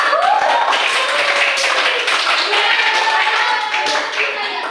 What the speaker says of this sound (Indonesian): Kita kasih aplaus dulu, jangan lupa.